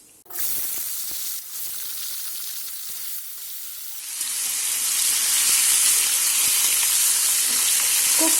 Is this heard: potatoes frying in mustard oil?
yes